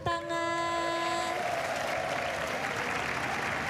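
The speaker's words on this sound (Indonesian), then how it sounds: "dengan suara dan tepuk tangan" Studio audience applause and cheering on an Indonesian dating game show as a single man is welcomed, a sustained dense roar of clapping; a bright sustained musical tone sounds over the opening second before the applause carries on alone.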